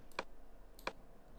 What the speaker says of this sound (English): I'm going to add an action by clicking the plus sign